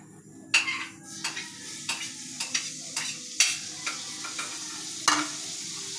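Sautéing in a pan while cooking monggo, with a quiet sizzle broken by regular sharp scrapes and clinks of a utensil stirring against the metal, close by and without any talk.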